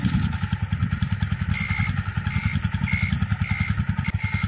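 A motorcycle engine idles steadily in a fast, even thump, while a turn indicator with a battery swapped for a capacitor clicks in a regular on-off rhythm over it, close and continuous.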